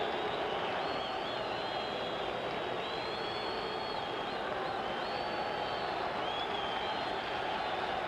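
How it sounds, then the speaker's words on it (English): Steady roar of a boxing arena crowd before a middleweight bout, a continuous wash of cheering and murmur with no break, moderately loud and fairly distant. "Listen to the crowd."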